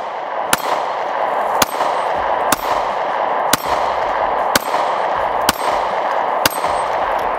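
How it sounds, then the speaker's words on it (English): Seven sharp pistol shots from an S&W Shield Plus crack at an outdoor range, each followed by a ringing clang off steel targets, spaced about a second apart and loud over steady wind noise. "Let's take a couple shots."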